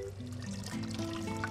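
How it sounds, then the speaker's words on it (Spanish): Water running into an emptied agrochemical container as it is filled for rinsing, a steady close trickle and pour with the pitch rising as the vessel fills. "debemos de llenar con agua"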